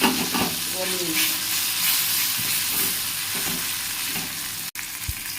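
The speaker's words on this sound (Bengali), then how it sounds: "দেখুন বন্ধুরা, একদম খুন্তির সাহায্যে এটা গলিয়ে নিয়েছি" Boiled eggplant is mashed with a spatula in a hot pan, giving a steady close sizzle and hiss with soft scraping and a sharp knock near the end, and no talking.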